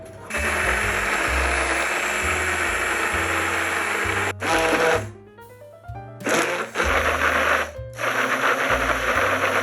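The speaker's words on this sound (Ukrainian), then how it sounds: "І знову все емульгую занурювальним блендером." An immersion blender emulsifies cream tinted with a pinch of turmeric, whirring loudly and steadily for several seconds with a couple of brief pauses where the motor slows and restarts.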